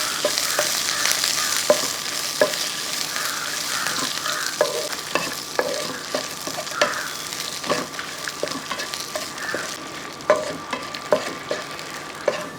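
Garlic, dried chillies and curry leaves sizzle steadily in a pan while a spoon scrapes and stirs through them in repeated close clicks and taps, with no voices.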